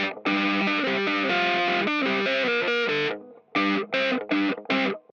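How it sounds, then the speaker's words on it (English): Dry electric guitar with no delay or reverb plays a distorted riff, with a sustained phrase followed by short choppy stabs separated by gaps, loud and up close. "So this is the sound completely dry with no delay."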